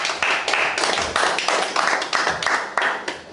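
A church congregation claps together in a steady, fast rhythm of loud close hand claps, sustained throughout with no pause.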